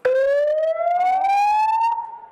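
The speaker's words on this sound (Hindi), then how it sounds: "And this is the fire alarm" A shipboard fire alarm shown at a defense exhibition sounds as a loud, steady rising electronic siren tone for about two seconds. Faint background chatter sits underneath before it cuts off.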